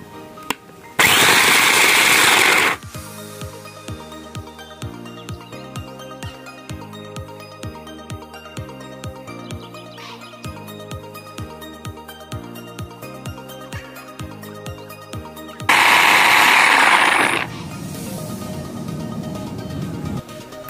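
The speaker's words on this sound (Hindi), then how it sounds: "और फिर इसको हम ग्राइंड करेंगे।" A kitchen grinder whirs loudly in two short bursts while processing bread crumbs mixed with chaat masala and ground chili, and quieter background music plays in between.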